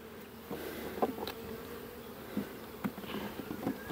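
Honeybees from a hive colony started in May hum steadily at close range, a continuous buzz with several sharper passes of individual bees swelling and fading, no talking.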